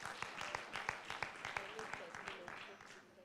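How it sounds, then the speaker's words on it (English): An audience at a safe motherhood conference gives a short, fairly quiet round of applause for a panel, with scattered hand claps heard from a distance. "Gentlemen, clap for my panel"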